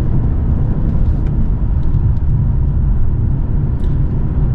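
A 2023 BMW 540i in Sport Plus mode taking corners, heard as a steady, loud low engine and road rumble that holds evenly throughout with no voices.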